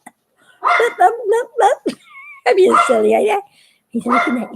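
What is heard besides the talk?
dog barking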